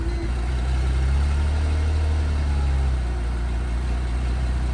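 A car engine idles steadily right after being jump-started with a portable power bank jump starter, a close, even low rumble with no talk.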